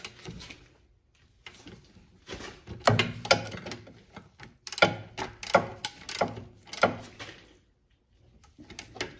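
Ratchet wrench tightening the rear brake bolts on a Lexus RX350, a run of quick metallic clicking bursts in short clusters with brief pauses between them, close and fairly loud.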